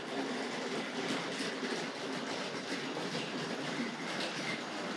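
A Tri-ang R.59 2-6-2 tank model locomotive runs on track, giving a steady, fairly quiet whirring rattle of small wheels and motor without a break.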